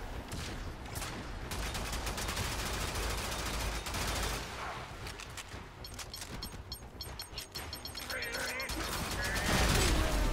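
Rapid automatic gunfire and metallic weapon sounds from the video game Warframe fire in dense bursts that continue almost without a pause, with mechanical clicks and a swell of noise near the end.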